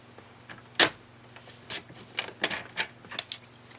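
Paper trimmer slicing an inch off a sheet of paper, a series of quick close scraping and clicking strokes of the blade, moderately quiet.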